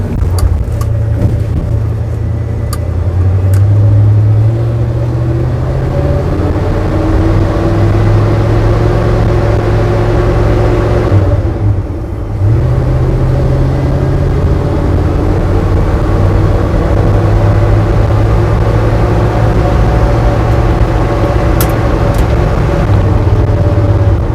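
Engine of a rusty 360 in a garage rebuild accelerating through the gears, a loud steady drone that climbs, drops briefly near the middle as the transmission shifts into third, then resumes, with no talking.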